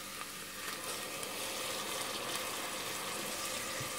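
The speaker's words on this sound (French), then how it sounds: "Je vais faire revenir jusqu'à ce que mon oignon devienne translucide" Onion and grated tomatoes sizzle steadily in a frying pan, a soft continuous hiss with faint crackles and no talking.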